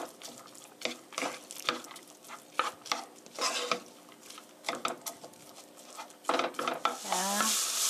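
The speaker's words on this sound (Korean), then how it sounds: "5 minutes stir fry 5분간 볶아주세요" Carrots and other ingredients being stir-fried in a pan for a meat sauce: a series of quick, irregular spatula scrapes and tosses over a light sizzle, close and rhythmic, ending in a brief louder clatter.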